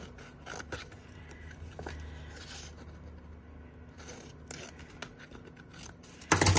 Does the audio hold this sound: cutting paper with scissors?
yes